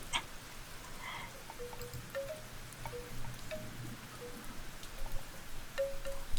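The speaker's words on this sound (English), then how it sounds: "Is the rain sounds too loud?" Soft, steady rain hiss running quietly in the background of an indoor setting, faint and even, with a few small chirps and clicks over it.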